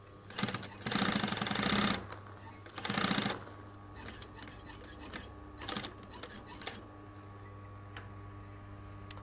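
A sewing machine makes two strong bursts early on, stitching a seam through tough leather on a jacket being taken in. Quieter clicks and shuffling follow under a steady low hum.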